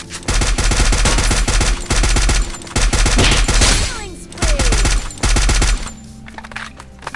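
AK rifle fire in the mobile shooter Free Fire comes in loud, rapid automatic bursts, four or five long strings broken by short gaps, with a falling whistle near the middle and a low hum under the final pause.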